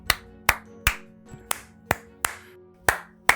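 A series of about nine sharp hand claps at a roughly steady pace, close and fairly loud, made to sync a recording, with short room decay after each clap and no talking.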